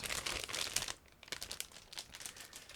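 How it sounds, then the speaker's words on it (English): Plastic bag of model kit parts being opened, crinkling and rustling in irregular bursts close up, fairly quiet with no talking. "And now I'm opening the next plastic bag meantime"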